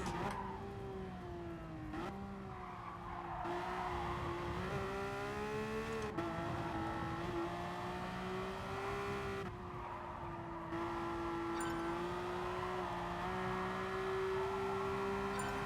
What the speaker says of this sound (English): It's the way this car drifts through corners that I'm a little bit unsure about.